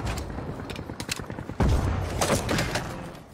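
Grenade launcher blasts and rapid shots in Generation Zero, a run of quick, close bursts followed by a heavier thudding explosion and several louder pops.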